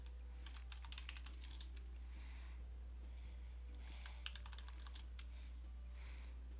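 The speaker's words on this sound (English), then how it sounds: "let's just type in tree" Rapid keyboard typing on a computer in quick clustered bursts of soft clicks, heard alone over a steady low electrical hum.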